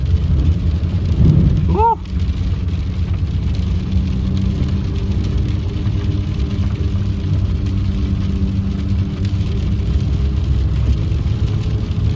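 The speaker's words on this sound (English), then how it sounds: "There's the sound again. So I think that they were correct. It is actually the 4-wheel drive actuators." A whirring 4-wheel drive actuator on a 2016 Ford F150 pickup gives a brief rising whine near the start, heard from inside the cab over steady road and engine rumble while the truck slows and shifts back into 2-wheel drive.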